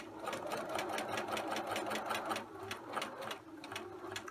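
A home sewing machine stitching a self-lined patch pocket toward its top edge, with rapid rhythmic needle clatter in short bursts and brief pauses, close and alone without talk.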